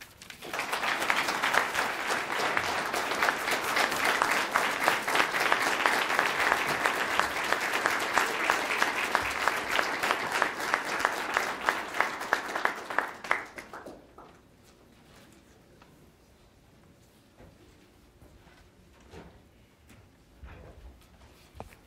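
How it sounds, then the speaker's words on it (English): Audience at a Martin Luther King Jr. celebration in Conway, Arkansas applauds the governor with loud, dense clapping for about thirteen seconds, then it stops abruptly, leaving a quiet room. "let's give our Honorable Governor, Asa Hutchinson, a round of applause."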